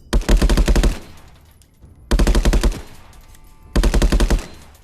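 MK18 rifle fire in a VR first-person shooter game comes as three loud bursts of rapid automatic shots, each about a second long, separated by short pauses.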